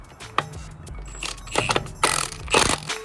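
An impact gun with a 17 mm socket works on a lug nut on a BMW E46 sedan wheel. It fires short, loud, rattling bursts after a few quiet mechanical clicks.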